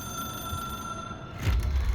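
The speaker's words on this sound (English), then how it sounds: "I'm guessing I'm running towards the sound of the phone ringing" A telephone rings inside the video game Control, a steady electronic ring that holds for over a second before a low thump, with no speech.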